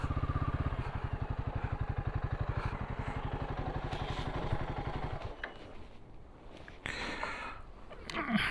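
A Royal Enfield Himalayan 450 motorcycle engine thuds with a steady rapid pulse up close for about five seconds, then drops away to quieter wind and road noise with brief bursts later.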